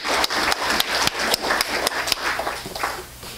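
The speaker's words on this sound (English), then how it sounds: "I think that everybody needs a round of applause." Lions Club members applaud volunteers at an awards meeting, a close, loud patter of hands clapping in a room with sharp individual claps standing out over the steady wash.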